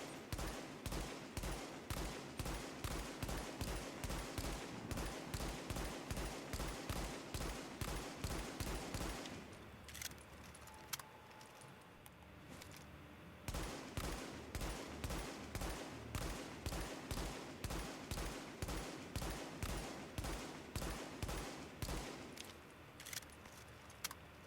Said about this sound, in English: it's time to test fire and show you guys how much recoil this gun actually has fully modded